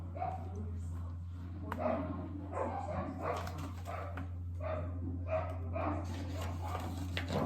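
Several dogs bark repeatedly at a moderate distance, with some yips mixed in, over a steady low hum.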